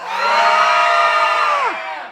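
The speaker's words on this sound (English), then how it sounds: "I need to hear your best horror movie scream" A theme park audience at a live horror makeup show lets out a loud group scream of horror-movie screams that holds for about a second and a half, then trails off.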